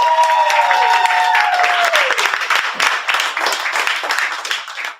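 Open-mic crowd applauding poet Kes Maro at a May 2025 event: a loud, dense wash of clapping fills the room, with a few tonal ringing notes early, then tapers off near the end.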